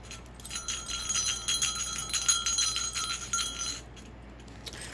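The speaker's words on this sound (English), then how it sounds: "So the bell's inside here, and it has the crochet string on it as well." Small bell inside a crocheted Christmas ornament jingling close to the microphone, a bright, rapid tinkling that rises for a few seconds, fades, and ends with a final faint jingle.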